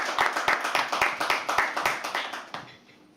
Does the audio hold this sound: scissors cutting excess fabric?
no